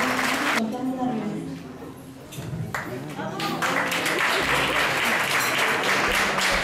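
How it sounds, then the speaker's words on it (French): Loud audience applause erupts at a Miss New Caledonia 2013 gala, a broad roar of clapping from the crowd that swells and holds steady, with a voice briefly heard over it near the start. "On applaudit bien fort, s'il vous plaît."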